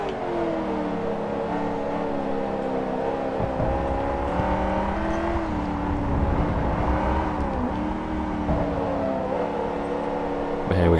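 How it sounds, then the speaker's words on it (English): A racing car engine in Forza Motorsport 3 drones with a glitched, sustained tone on a track-day circuit with a Corvette, steady layered harmonics wavering slightly in pitch throughout. "That was a very long little engine sound glitch."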